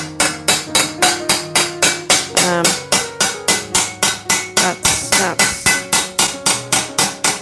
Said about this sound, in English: So that sound is the right sound where the metal is making contact.